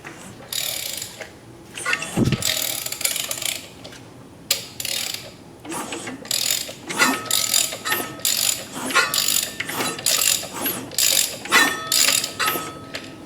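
A faint mechanical rubbing and clicking inside the LY6 LS-style V8 swapped into a 1999 Dodge Dakota R/T repeats in uneven bursts, like parts scraping as something turns slowly, close by and without talk.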